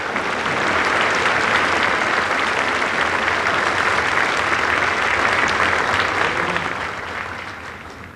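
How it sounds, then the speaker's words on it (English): A school senior assembly audience at Port Huron Northern applauds award winners, a loud sustained wash of many hands clapping that fades slightly toward the end. "A round of applause for our winners."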